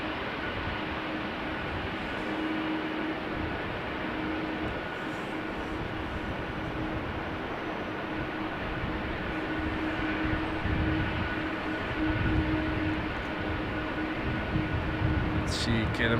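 A KLM Boeing 787-10 Dreamliner arriving at Amsterdam Schiphol Airport in showery weather produces a steady broadband roar of jet engines that rises slightly as it passes, with people talking faintly over it.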